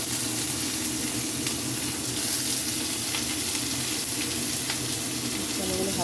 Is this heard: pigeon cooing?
no